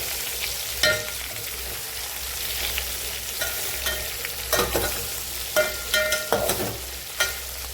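Stuffed Malvani brinjal fries in a pan and is turned over. A soft, steady sizzle carries intermittent scraping knocks from the turning, fairly quiet and with no talk.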